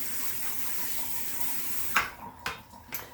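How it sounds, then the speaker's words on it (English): Water running through freshly shampooed locs during a wash, a steady broadband rush like a faucet or shower stream, with a few brief splashy bursts near the end. "I've run a whole lot of water through it"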